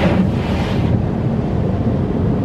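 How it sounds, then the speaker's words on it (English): A car's defroster fan blows inside the cabin on a foggy, slightly icy winter morning, a steady close broadband whoosh that holds at an even level throughout with no talk over it. "You can probably hear the defroster is on."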